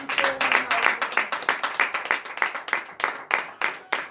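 A church congregation at a morning prayer service in Benin claps in a quick, steady rhythm, many hands beating together near and loud with faint voices underneath.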